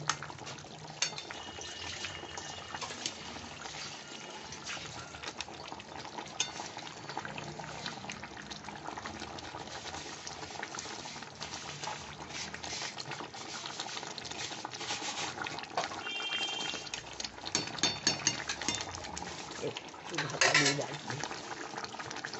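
Doi pabda, pabda fish in a sour yogurt sauce, gently bubbling and simmering in a pan, a soft, continuous crackling fizz with a voice talking over it.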